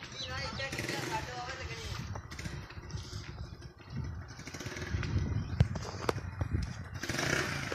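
A motorcycle ridden by a first-time learner, its engine a low, steady drone with slight revving, heard mostly beneath people talking close by, with some clattering.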